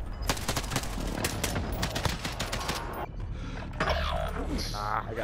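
Heavy Call of Duty Warzone gunfire rattles in fast automatic bursts, loud and close, breaking off briefly before a few more scattered shots and mechanical clatter.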